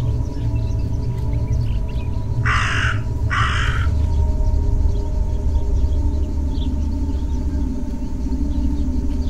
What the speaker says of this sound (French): C'est jamais bon signe de chercher, d'aller vers les corbeaux.